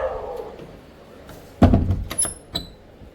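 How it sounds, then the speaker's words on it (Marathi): A bedroom door closes with a solid thunk, followed by a couple of softer knocks and a faint squeak. "दरवाजा घेते लावूनच, कारण बेडरूमचा दरवाजा आहे उघडा"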